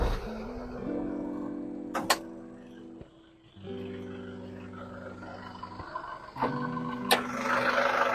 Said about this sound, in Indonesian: kalian mau dengar suara mesinnya?